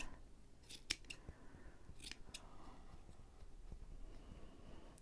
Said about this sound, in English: So I'm going to cut off these really long pieces at the end.